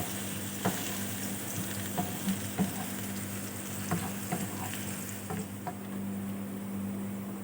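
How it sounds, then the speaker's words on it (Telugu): Chopped onion and garlic frying in a pan, a steady sizzle with scattered stirring clicks and scrapes of a utensil, close and continuous. "ముందుగా కట్ చేసుకున్న ఆనియన్, ఎల్లుల్లిపాయ బాగా ఫ్రై చేసుకొని బ్రౌన్ కలర్లో రావాలి"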